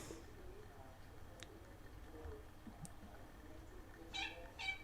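A house cat gives a couple of faint, brief meows near the end of a quiet room with a low background hum.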